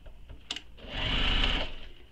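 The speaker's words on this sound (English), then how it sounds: "now we're going to stitch that little box to help hold those seams open" A sewing machine stitches a small box seam on a handmade crossbody bag: a brief click, then a short close burst of motor whir that rises and tapers off.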